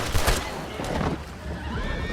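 A horse whinnies near the start, followed by a second neigh amid a busy background of shouts and movement, in the video game Red Dead Redemption 2.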